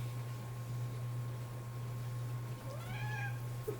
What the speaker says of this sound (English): hopefully the cat doesn't walk by, but we'll find out. He's looking.